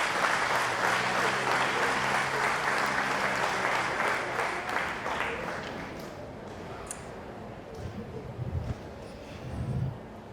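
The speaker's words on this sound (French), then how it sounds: "Et je vous demande de l'applaudir." An audience at a family celebration event applauds warmly, dense clapping for several seconds before thinning out into a few scattered claps and crowd murmur.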